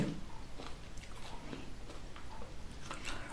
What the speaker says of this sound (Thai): เป็นการกินครั้งแรกของวารุตา เดี๋ยวจะมาชิมให้ดูก่อนนะคะ